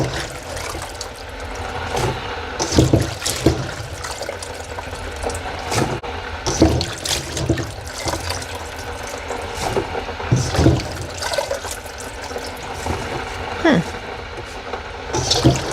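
Water from boiled cauliflower pours and splashes into a sink as it is strained, an uneven rushing stream with louder gushes and clatters, close and continuous.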